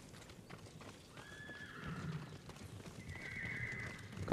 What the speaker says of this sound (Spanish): Caballos.